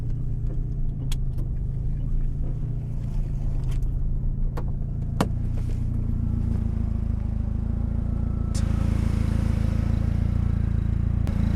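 An all-wheel-drive Mini Cooper fitted with a DSM 4g63 engine driving through snow, its engine droning loud and steady from close by, with the pitch shifting slightly partway through and occasional clicks and rattles over it.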